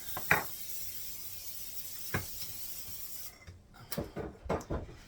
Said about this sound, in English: And then you're going to dump everything in that